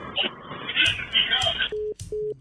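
A phone line tone sounds after a caller hangs up during a call-in stream: two steady, loud beeps repeat near the end, following a stretch of voices and line noise.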